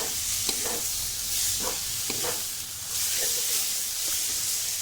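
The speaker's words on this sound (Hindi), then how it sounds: "इसमें हमने प्याज को और टमाटर को, लहसुन को, हरी मिर्च को, सभी को अच्छी तरह से फ्राई कर लिया है।" Constant close sizzling of onions, tomatoes, garlic and green chillies frying in a pan, with occasional soft scrapes of stirring and no talking.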